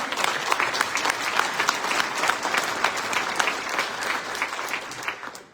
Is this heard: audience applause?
yes